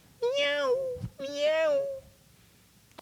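A cat meows twice in quick succession, clear, close and tonal with rising-then-falling pitch, followed by quiet.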